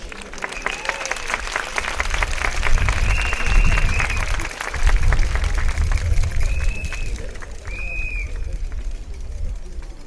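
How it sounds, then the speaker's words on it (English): A rally crowd at Bedok Stadium applauds the speakers, a dense, loud wash of clapping with cheering swells lasting the full stretch, a few whistle-like tones rising above it and faint voices in the mix. "a round of applause for all our speakers"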